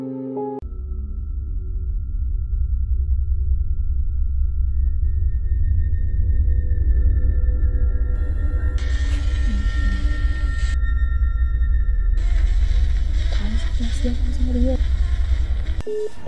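A failed phone call produces steady electronic tones with no ringing, a long sustained line joined by bursts of higher buzzing noise, continuous and fairly loud throughout.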